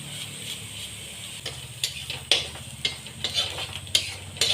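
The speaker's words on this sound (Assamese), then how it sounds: "এতিয়া পিঁয়াজখিনি ভালকৈ ভাজি লৈছে" Onions fry and get stirred in a pan for an Assamese fish curry with pumpkin, a soft steady sizzle broken by irregular scraping clicks of the spoon, close and fairly quiet.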